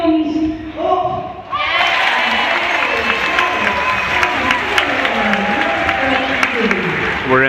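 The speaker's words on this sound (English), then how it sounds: "you've got to give him a big round of applause for me" A crowd at a sea lion show bursts into loud, sustained applause and cheering after a short stretch of talk, the clapping filling the space steadily for several seconds with voices still audible underneath.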